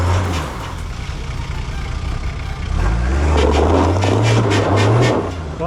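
A 2023 Ford Raptor 4x4 on an offroad track strains over slippery rock on max tracks, its engine droning loud and close, then rising into a sustained rev in the second half, with no talk.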